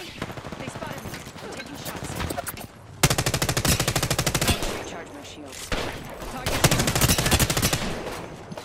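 Rapid bursts of automatic gunfire in a video game, loud rattling volleys starting about a third of the way in and returning after a brief lull, with someone talking.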